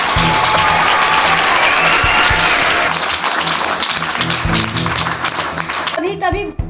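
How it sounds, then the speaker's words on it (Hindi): An audience at a school education talk breaks into loud, dense clapping that fills the room for about three seconds, then thins into scattered claps as a voice begins speaking over the tail. "सर के लिए एक बार जोरदार तालियां"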